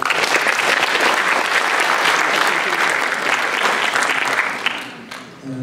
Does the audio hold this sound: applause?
yes